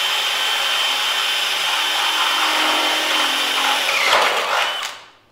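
A power drill whines steadily as it bores into an old Chevy C10 steel frame, close and loud, then spins down and stops near the end.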